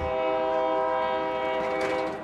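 A train sounds its horn at a busy railroad crossing, a loud, sustained chord held steadily throughout, close by and alone over faint rail rumble.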